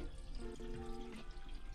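Ordinary drinking water is poured into the cooling system of a Mazda Miata, a steady, faint liquid trickle and gurgle that runs continuously under background noise, with no speech.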